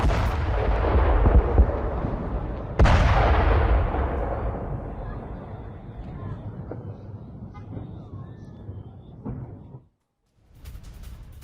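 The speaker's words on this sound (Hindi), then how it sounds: "और पूरी इमारत को किस तरह से लेबनान में उड़ा दिया इजरायल ने, ये तस्वीरें आप देखिए।" Building in Lebanon blown up in an Israeli strike: a loud, sustained explosive rumble with a second heavy blast about three seconds in, slowly decaying into distant roar and debris before a brief silence and renewed noise.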